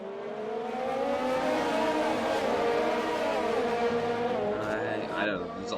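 Race cars braking hard into a tight corner during a GP1 race at the Russian Grand Prix, engines whining and shifting down under constant track noise, with commentators talking over the top.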